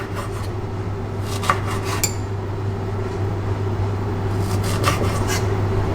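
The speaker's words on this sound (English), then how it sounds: "First you take some ginger and you slice it just anyhow." Knife slicing ginger on a board in a kitchen, heard as irregular clusters of short, crisp cuts and taps over a steady low hum, with no voices.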